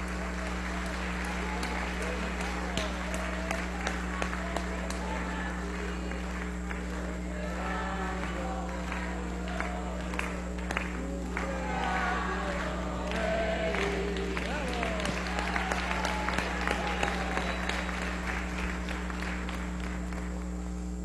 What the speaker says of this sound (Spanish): Un aplauso al compañero vicepresidente.